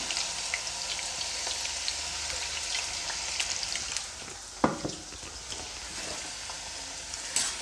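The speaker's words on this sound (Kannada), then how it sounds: "ಎಣ್ಣೆ ಕಾದ ಮೇಲೆ ಹೆಚ್ಚಿ ಇಟ್ಕೊಂಡಿರುವಂತಹ ಆಲೂಗೆಡ್ಡೆನ ಹಾಕ್ಕೊಳ್ತಾ ಇದ್ದೀನಿ" Cut potato sticks sizzle steadily in hot oil, a dense even crackle across the whole stretch with a sharper clatter near the middle and another at the end as pieces shift in the pan.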